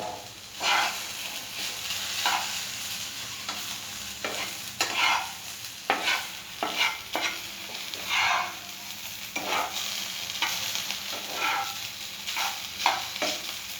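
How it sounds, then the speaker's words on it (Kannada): Food stirred and fried in a pan until brown, rhythmic scraping strokes of a spoon repeating every second or so over a continuous crackling sizzle, close and clear. "ಕೈ ಆಡ್ತಾನೆ ಇರಬೇಕು, ಅವಾಗ ಚೆನ್ನಾಗಿ ಫ್ರೈ ಆಗುತ್ತೆ."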